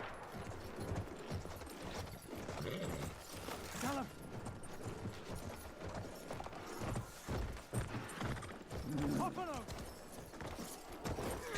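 Horse hooves clop and thud rhythmically while a player rides in Battlefield 1, the hoofbeats mixed with game noise and someone talking over them throughout.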